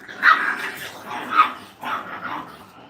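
Brittany puppies play-fight, letting out a close series of high yips and barks that rise and fall over a few seconds.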